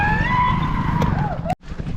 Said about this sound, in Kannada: ನೋಡಿ ಅಲ್ಲಿ ಬೈಕ್ ಬರ್ಲಾತಾವ